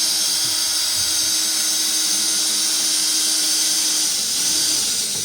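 A power drill drives a self-tapping sheet metal screw into a furnace exhaust vent, giving a steady, loud high-pitched whine that holds for several seconds with no talking.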